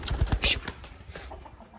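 Soft pigeon coos and fluttery bird sounds come in short bursts close by, with some rustling between them.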